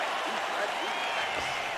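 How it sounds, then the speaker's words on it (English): A crowd applauds after a round in a UFC video game, a dense steady wash of clapping and cheering heard under a commentator's voice. "So the crowd voicing its appreciation after that round."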